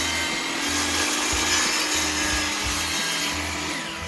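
Wooden boards being cut to length with a saw, a steady loud grinding, rasping cut that runs continuously for about four seconds with rhythmic low thumps underneath, no talking.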